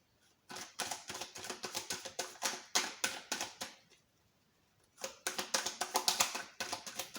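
Tarot cards shuffled and laid face down on a table, a quick run of crisp slaps and taps in two bursts separated by a short pause, close and clear with no voices.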